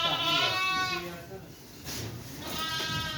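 A lamb bleats on a farm near a field of fresh alfalfa, two drawn-out wavering bleats close by with a pause between, while someone talks around them.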